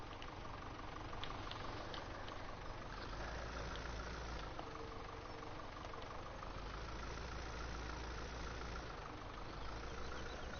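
Tractor engine in Farming Simulator 17 labouring uphill under a heavy load, a steady low droning rumble with knocking texture that holds loud and continuous throughout, without talk.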